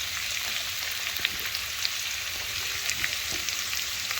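Ridge gourd with turmeric and chilli powder stir-frying in a pan, a dense continuous crackling sizzle with small spattering pops and light stirring, close and steady throughout without any voices.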